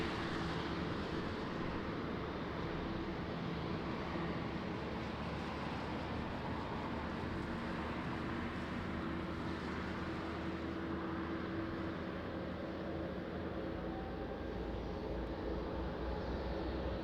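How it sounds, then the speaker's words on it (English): A private jet at Lisbon Airport in rain and wind gives off a steady, broad engine roar that holds evenly throughout with no pauses. "Beautiful private jet."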